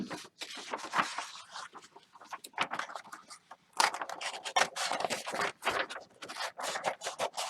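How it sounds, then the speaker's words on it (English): Paper being cut for a beginner's bookbinding ephemera storage journal, with a steady run of close crisp scratchy snips and rustles, pausing briefly midway before continuing alone. "So I'm going to cut this out."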